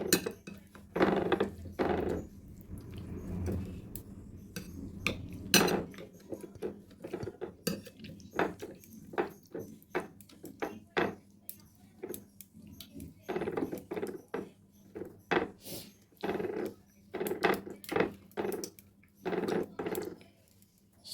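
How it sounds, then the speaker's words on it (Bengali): Garlic and tomatoes mashed by hand for tomato bharta, with a long run of irregular knocks, scrapes and clinks of utensil against a bowl or plate, soft and close, with no talking. "রসুনগুলো আর টমেটোগুলোকে স্মেশ করে নিচ্ছি"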